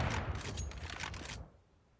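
Rapid MP9 submachine gun fire in CS:GO during a pro match, a quick burst of crackling shots lasting over a second before cutting off into quiet.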